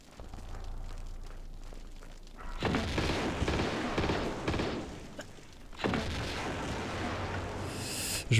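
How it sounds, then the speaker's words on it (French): Gunfire from shooting enemies in Tomb Raider 2 comes as bursts of booming shots, a quiet rumble first and then loud overlapping blasts that fade and return, with no talk. "Et on va les attendre et leur tirer dessus en espérant"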